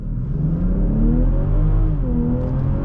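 A 2021 BMW X5 xDrive40i launching hard from a standstill, its engine roaring loud and close with the pitch climbing through the revs and a brief dip as it shifts.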